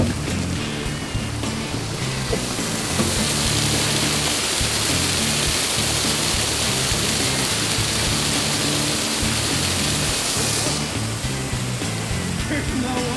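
Continuous roar of a 15-foot waterfall, a dense steady wash of falling water heard close and fairly loud throughout, with a brighter hissing layer swelling in the middle stretch.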